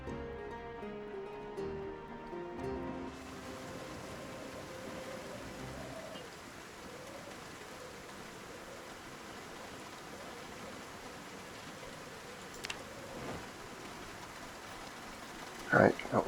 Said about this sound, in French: une pluie battante, pas d'orage, hein.